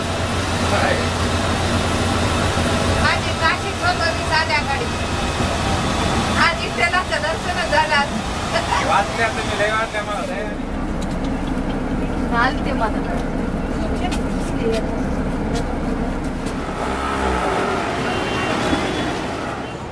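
A Shivshahi bus on the road, its steady engine drone and air-conditioning hum filling the cabin, road rumble constant underneath while passengers talk over it, with a few brief rattles.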